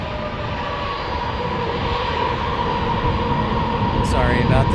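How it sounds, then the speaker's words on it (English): An American Airlines Airbus A321 landing at San Diego airport, its steady jet engine roar loud and sustained throughout, with a rising whine near the end. "American Airlines landing here on an A321."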